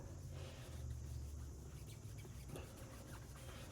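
Quiet, steady rubbing and scrubbing against the back of a grimy Edison Diamond Disc record being cleaned with water, a soft continuous rasping friction heard close up with no talking.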